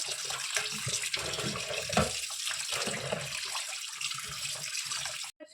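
Tap water runs steadily into a kitchen sink during washing, a continuous near splashing stream that cuts off abruptly at the end, with no voices.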